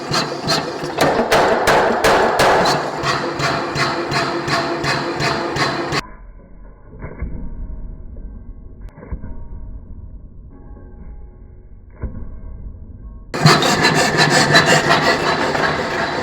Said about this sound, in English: I have two iPhones that I want to smash with my power hammers.